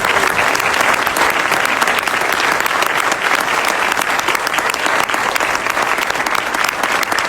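At a prize-giving ceremony in Úbeda, an audience gives the award winner a warm round of applause: dense, loud, even clapping that fills the whole stretch.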